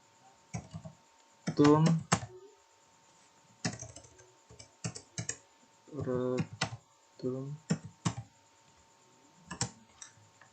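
Computer keyboard keys clatter in short clusters of quick taps, with the enter key pressed, close by, while someone talks over and between the typing.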